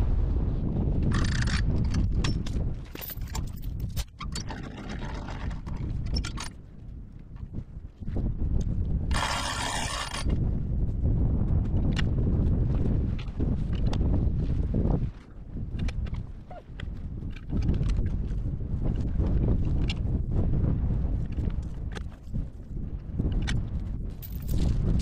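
Strong wind buffets hard and continuously, roaring with gusts and rattling noises throughout.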